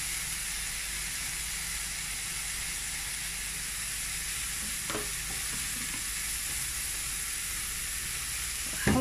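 Garlic frying in butter or ghee while being stirred: a constant close sizzle and hiss fills the whole stretch, with a few soft scrapes of the spoon against the pan.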